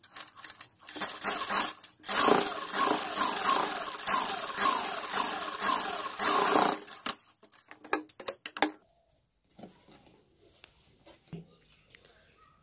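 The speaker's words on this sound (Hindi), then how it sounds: "और सुई को अब नीचे करेंगे इस तरह से और किनारी पे सिलाई लगाएंगे।" A sewing machine stitches along the edge of a kurta button placket in fast rattling runs for several seconds, then a few scattered clicks and taps as the stitching stops.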